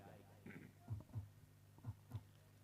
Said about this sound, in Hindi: ये देखिए दिलों की धड़कन हमारे डीजे मास्टर सुनाते हुए.